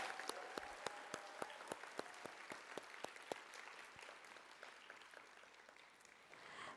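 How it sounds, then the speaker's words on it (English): An audience at the Thermo Fisher Scientific Junior Innovators Challenge 2025 awards ceremony applauds the judges with distinct, fairly quiet claps from a modest crowd that soon thin out and fade. "Can we give them a big round of applause?"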